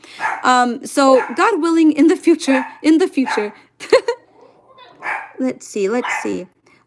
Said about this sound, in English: if you hear my dog barking.